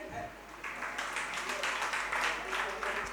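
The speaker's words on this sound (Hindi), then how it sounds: "बज गई ताली, देखो" An audience at a Jain religious sermon breaks into clapping, a moderate wash of hand claps in a hall, with a voice speaking over it.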